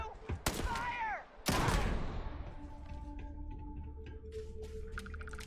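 Gunfire in Starfield erupts as a few sharp close shots followed by a heavier blast with a rumbling decay, leaving faint mechanical hums and tones afterward.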